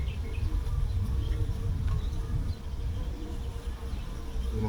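Honey bees buzz around an opened hive frame, making a constant, close, droning hum that fills the background without a break.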